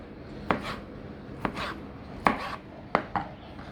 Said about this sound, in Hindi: तो इसको इसी शेप में काटें।